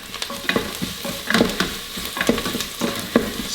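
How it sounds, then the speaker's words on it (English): Onions sautéing in an Instant Pot while a utensil stirs them, an even sizzle broken by repeated scraping knocks against the pot, close and clear with no voices. "So I'm gonna give them the first stir"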